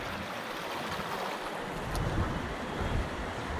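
Athirappilly waterfall roaring steadily at close range, a dense continuous rush of falling water with wind noise over the microphone, swelling slightly midway and staying constant throughout with no voices.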